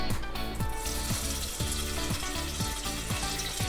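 Loud, steady sizzling of jalapeno peppers frying in hot corn oil in a popcorn machine, crackling continuously with a rhythmic mechanical thumping underneath.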